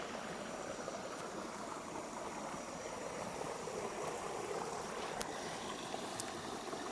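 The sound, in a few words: small stream of flowing water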